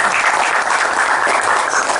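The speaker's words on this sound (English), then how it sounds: "You should clap for him." An audience at a TiE Pune story session claps for a company employee, with dense, steady applause from many hands filling the hall without pause.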